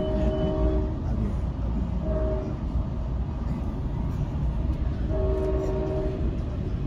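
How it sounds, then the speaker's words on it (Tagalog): A train rumbles steadily nearby on Thanksgiving Day, with long horn blasts sounding twice, low and sustained over continuous rail noise. "Naririnig nyo yung tunog ng tren."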